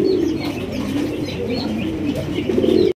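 Lahori pigeons, a breeding pair among many birds, coo in low repeated rolling calls mixed with scattered chirps and a brief flutter of wings, close and fairly loud, with no talk.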